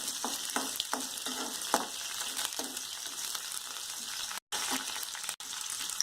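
Chopped onions and green chili fry for poha in a hot pan, giving a steady close sizzle broken by repeated scraping stirs, with no voices.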